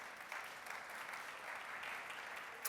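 Audience applause for startups at a startup innovation spotlight event, a steady dense wash of many hands clapping for about three seconds with no talk over it.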